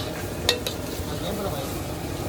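Mie goreng fried in a pan at a street food stall: a continuous soft sizzle with a couple of sharp metallic clinks from stirring utensils, close by.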